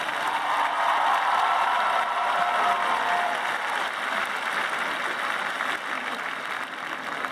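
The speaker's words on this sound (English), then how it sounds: "I want the graduates to clap and thank the folks who helped get you here today." Graduates applaud at a 2015 graduation ceremony, a sustained, fairly loud wash of clapping from a large crowd that eases slightly toward the end, with no speech over it.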